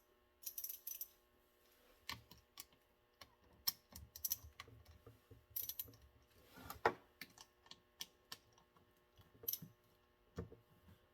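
Ratchet wrench clicking in short, irregular bursts while a fuel line is pulled off a Holley carburetor on a 1971 AMC Gremlin, with sharp close-up ticks and metallic rattles separated by brief pauses, no talking.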